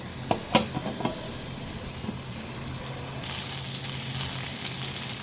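Eggplant (brinjal) slices frying in oil in a pan make a steady close sizzle, opening with a few knocks and stirring scrapes before the hiss settles and grows slightly louder.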